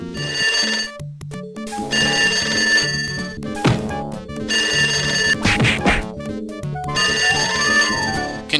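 A telephone rings in the adventure game Sam and Max Hit the Road, three bursts of bright electronic ringing separated by short pauses, mixed with the game's background music.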